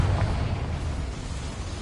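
Confringo blasting spell going off in Hogwarts Legacy, a dense rumbling explosion that fills the moment with heavy low roar and slowly decays, loud and close with no voices over it.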